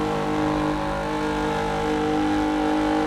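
Classic supercar engine heard from the rear in the racing game Assetto Corsa EVO, a loud, steady, full-bodied exhaust drone that holds a sustained rev throughout, close and alone without voices.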